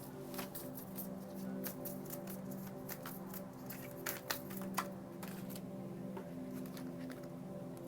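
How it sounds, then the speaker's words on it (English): Oracle advice cards being shuffled by hand, a quiet series of soft papery riffles and flicks with a few sharper slaps near the end, close up with no speech. "I do want to shuffle an additional advice card or however many that fall out"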